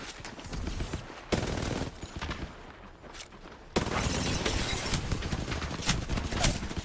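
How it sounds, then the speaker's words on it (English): Rapid bursts of gunfire ring out in a ranked multiplayer shooter match, with sustained volleys, a brief lull and then a louder, denser barrage close by. "They're shooting at me"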